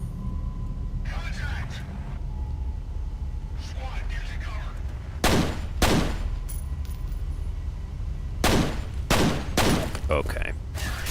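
Gunfire strikes a wall in F.E.A.R., arriving as two separate bursts of sharp, loud shots, the second longer, with quieter background game noise and occasional talking between them.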